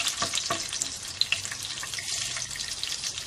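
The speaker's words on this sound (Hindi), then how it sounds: "राई डाली है हमने, इसको थोड़ा सा हम फ्राई करेंगे।" Cumin and mustard seeds frying in hot oil give a steady, close sizzling hiss with scattered small pops and crackles throughout, and no voices.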